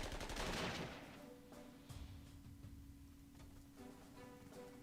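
Anti-aircraft gunfire in the Panzer Corps 2 war game: a loud rapid burst of automatic fire, then scattered crackling shots and rattling under a steady low tone, with no talking.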